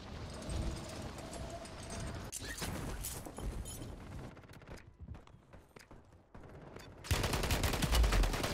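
Automatic and single gunfire from an STG44 in Warzone on Rebirth Island, crackling in dense bursts throughout and growing louder and nearer in the last second and a half.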